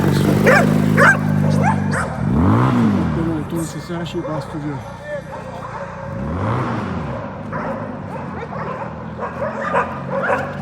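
Dogs bark and yip repeatedly nearby while people talk, with a vehicle passing and loud rumbling noise in the background.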